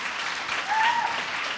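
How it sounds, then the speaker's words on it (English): A brief burst of audience applause at a panel event on women and sport, with a crowd clapping briskly and evenly, swelling slightly before it tapers off. "I think it deserves a round of applause"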